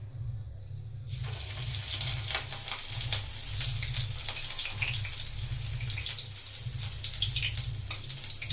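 Green chillies drop into hot oil in a kadai, setting off a steady, loud, bubbling sizzle. It starts about a second in and keeps going without a break, with no talk over it.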